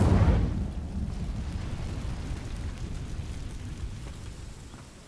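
An Incendio fire spell cast in the Hogwarts Legacy game bursts in with a loud whoosh at the start. It then settles into a low, rumbling roar of flame that fades slowly over several seconds, with no voices.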